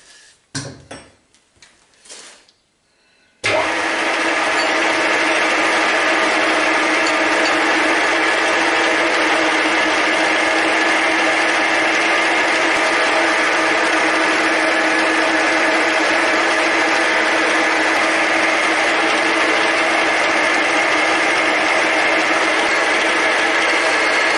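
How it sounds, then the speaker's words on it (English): A power drill bores mounting holes into a Deckel machine part, starting after a few seconds of small clatter and then running as a loud, steady, continuous whine that fills the rest of the clip without pause. "I'm ready to drill the four mounting holes"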